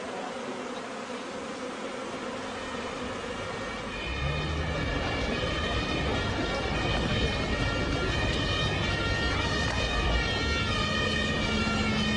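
A fire engine siren wails as firefighters arrive, its steady tones rising in the middle distance over a buzzing bee swarm and street noise.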